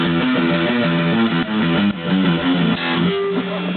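A song intro is played on a distorted electric guitar, with fast alternate-picked notes descending by half steps down the neck against a chugging low string, loud and continuous.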